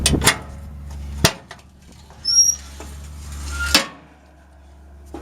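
A metal access door on a Caterpillar 815F2 compactor clanks open with a couple of sharp knocks and latch clicks over a steady low engine hum, plus a brief squeak midway.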